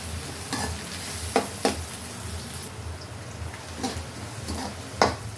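Onions sauté in a pan for a sardine curry, a constant close sizzle punctuated by several sharp spatula strokes and scrapes at uneven intervals, with no speech.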